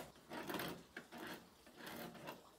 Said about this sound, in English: This is a homemade scraper made from an old file. I'll use it to remove the paint from around the hole.